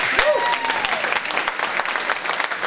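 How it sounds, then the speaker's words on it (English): Applause from a crowd at a UFC Gym opening event in Sunnyvale, California: brisk clapping with distinct sharp claps, a voice briefly rising over it at the start. "I want to give you a round of applause"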